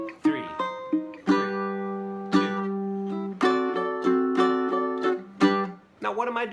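A ukulele plucks a bluesy turnaround lick, a run of clear, close, separate notes and chords with small pauses, played alone without talk.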